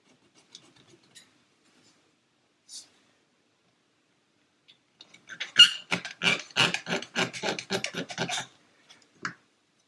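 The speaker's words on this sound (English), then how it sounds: "So that's a nice simple job for our razor saw. And I'm going to cut it actually on the top step" A razor saw cuts through the top step of a plastic 1/400 scale model staircase part, giving a close, quick run of rasping back-and-forth strokes after a few scattered clicks and handling noises.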